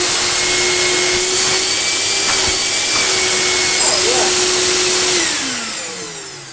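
A refurbished Goblin Aquavac Bulldog vacuum cleaner runs with a loud, steady motor roar and high whine. Its pitch drops and the noise fades as it winds down near the end, with a voice briefly heard over it.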